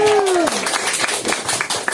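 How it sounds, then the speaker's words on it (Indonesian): A crowd at a Balinese language month event in a restaurant claps in dense, steady applause, with a brief falling tone at the start and voices mixed in. "Tepuk tangan dong."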